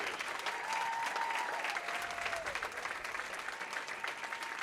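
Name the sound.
audience applause at bowling championship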